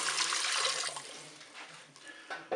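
Water poured into a Cookeo pot holding mussels and white wine, a bright splashing stream that tapers off over a couple of seconds, close, with a clatter at the end.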